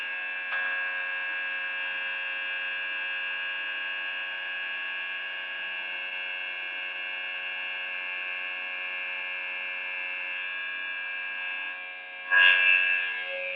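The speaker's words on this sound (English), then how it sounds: "about to fill up the tire" A pump filling a tractor tire with washer fluid gives off a steady electric whine and hum that holds evenly throughout, with a short louder clatter near the end.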